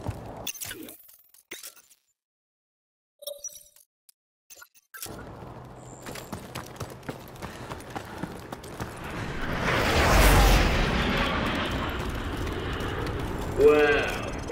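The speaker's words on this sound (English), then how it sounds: "Now get a safe distance from the explosives. Fire in the hole!" C4 explosives detonate in Call of Duty: Modern Warfare Remastered, a heavy rumbling blast that swells after a quieter stretch of clicks and movement, then rolls into debris and noise.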